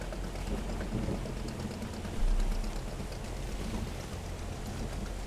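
Storm rain in the fishing game Fishing: Barents Sea, a steady dense hiss of rainfall with a low rumble of thunder swelling briefly midway, continuous and moderately loud.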